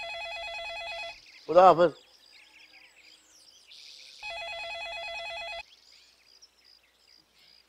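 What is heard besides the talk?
telephone ringing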